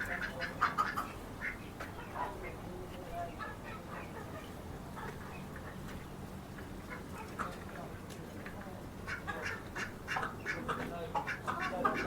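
Ducks quack repeatedly in a noisy, overlapping chorus, some close and some further off, with chickens mixed in and steady background hum.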